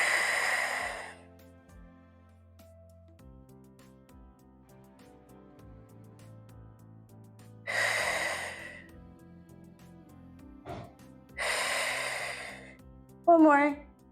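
Slow deep breaths during a pilates hold with a ball held out in front: a few long, audible exhalations spaced several seconds apart, close and fairly loud, with quiet background music between them.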